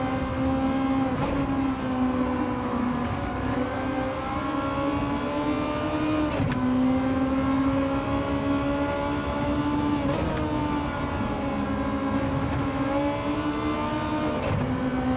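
Race cars in the video game Gran Turismo 7 during an online lobby race, engines droning steadily at high revs with pitch shifts through gear changes, a continuous loud layered whine with no talk.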